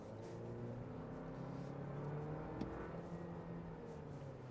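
Low engine drone of a 2024 Toyota Land Cruiser on the road under gas, a steady hum with slowly shifting tones and faint tire and wind noise, no talk.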